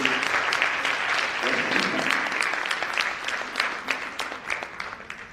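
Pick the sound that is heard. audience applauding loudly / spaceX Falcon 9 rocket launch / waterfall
audience applauding loudly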